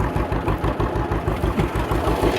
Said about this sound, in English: Hauling hay the old school way with a Model A John Deere